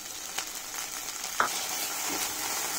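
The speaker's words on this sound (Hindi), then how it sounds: "तेल गरम हो गया है, अब हम इसमें हरे मटर डालेंगे।" Frozen green peas sizzling in hot oil, a steady, close frying hiss with a couple of small clinks and crackles, fairly quiet and without talk.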